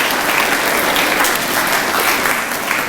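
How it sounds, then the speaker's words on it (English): A large audience at a youth speaking competition breaks into loud, dense, continuous clapping that fills the room with no voices over it. "let's give a big round of applause to the support of the parents and the grandparents"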